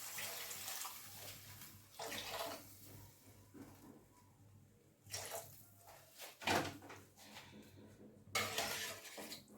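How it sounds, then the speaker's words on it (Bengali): Water poured into a pot of Bengali rui fish curry with bitter gourd, eggplant and potato, heard as a few short splashing, running bursts with quiet pauses between them and faint clinks of pots and utensils. "এবার এর মধ্যে জল দিয়ে দেবো আমাদের সবজির পরিমাণ অনুযায়ী জল দেবেন"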